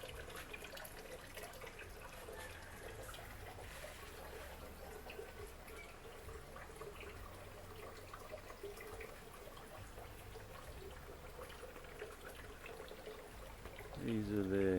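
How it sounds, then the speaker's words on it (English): A small backyard garden water feature trickles steadily and softly throughout, a continuous gentle splashing close by, with a brief louder stir of sound near the end. "Water feature."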